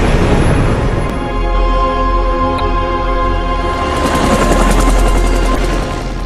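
A helicopter roars loudly and steadily nearby, rotor thumping and turbine whining, with rushing wind noise swelling toward the end.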